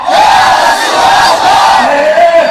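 A large crowd at a Bengali religious sermon gathering roars a religious slogan back in unison, loud and sustained shouting filling the space for the whole stretch.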